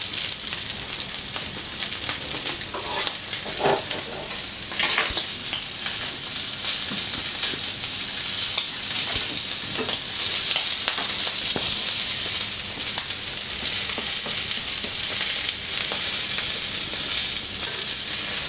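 Loud, steady sizzle of rabbit pieces and a rabbit rack searing in a hot pan, with occasional crackles and spits running continuously and close.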